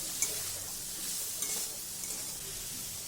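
Turmeric, salt and sugar being stirred in a pan over gentle heat, a soft, fairly faint sizzle with a few light spoon knocks scattered through.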